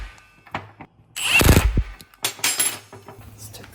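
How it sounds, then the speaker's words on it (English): A 15mm wrench and socket snug loose track bar bolts on a Jeep Gladiator during a lift kit install, giving a burst of ratcheting and metallic clanks, a few sharp knocks and some shuffling, close and irregular. "I'm going to use a 15mm wrench and a 15mm socket just to snug them in"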